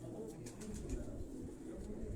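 Faint, soft cooing of fancy pigeons kept by a Quetta pigeon breeder, low murmuring calls with light fluttering, heard at a distance under quiet background hum.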